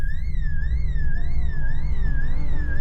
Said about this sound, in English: The siren keeps running, and the system keeps contacting you with a call.